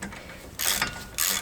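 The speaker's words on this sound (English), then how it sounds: "I'm just going to make sure I finish them off by hand on these." Ratchet hand-tightening Torx bolts on the front brakes of a Ford Transit Custom, two short bursts of close, bright mechanical clicking separated by a brief pause, with no voices.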